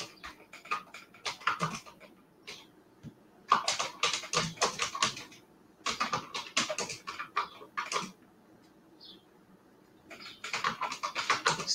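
Bursts of quick clicking keystrokes on a computer keyboard come in several runs separated by pauses. They are fairly close and clear, with no speech over them.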